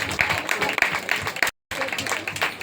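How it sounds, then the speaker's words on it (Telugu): An audience at an event applauding a judge, dense steady clapping mixed with a speaking voice, broken by a short silent gap before resuming. "చప్పట్లు కొడదాం జడ్జి గారికి."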